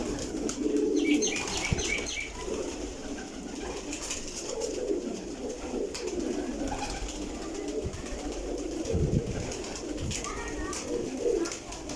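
Pigeons coo steadily across a loft of about 300 birds of mixed bloodlines, soft overlapping calls with occasional wing flaps and a few chirps, moderately close and with no talk.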